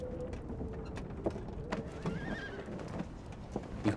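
A horse whinnies amid soft clopping hooves and creaking tack, fairly quiet and close, with scattered knocks and rattles.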